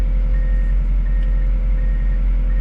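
A D51 bulldozer backs down trailer ramps, its steady low engine rumble droning close and constant while a faint intermittent reversing beep rings above it.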